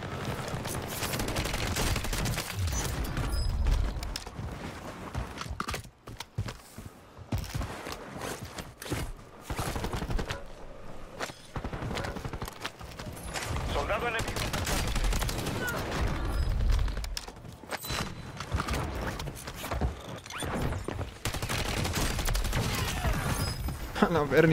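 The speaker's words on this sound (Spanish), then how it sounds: "Es la Holger 26 de la ametralladora ligera" Holger 26 light machine gun firing in rapid bursts during a first-person shooter game, loud and continuous over the whole stretch, with players talking over the gunfire.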